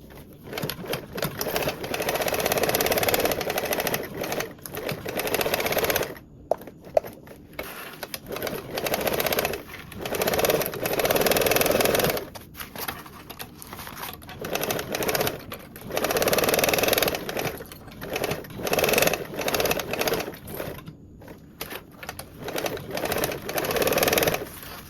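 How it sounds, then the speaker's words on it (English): Sewing machine stitching a zipper panel onto a duffle bag, close and loud, running in repeated bursts of a few seconds each with short pauses between runs. "I'm going to sew around with a 3/8 seam allowance."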